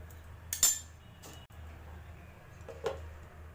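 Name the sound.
stirring bitter gourd in pan and covering with lid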